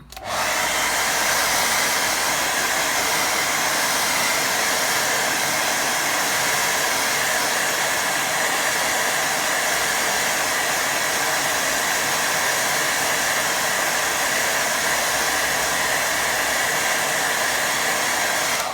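A hair dryer drying watercolour paint roars steadily and loudly for the whole stretch, a constant close-up whoosh with no pauses or talking.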